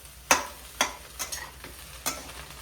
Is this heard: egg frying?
yes